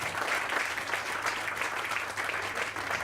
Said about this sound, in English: Would you please give a round of applause to welcome him?